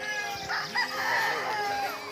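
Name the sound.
chicken rooster crowing and clucking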